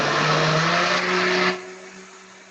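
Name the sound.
blender blending green banana porridge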